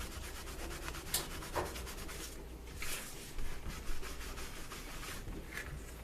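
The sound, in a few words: cloth buffing excess dye off leather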